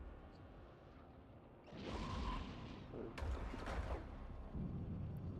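Ship cannons and missiles fire in the space video game EVE Online, with two rumbling, crashing bursts rising over a steady low hum of the game's ambience.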